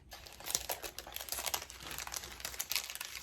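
Paper package of craft stickers being opened, close crinkling and rustling that comes in quick, irregular bursts.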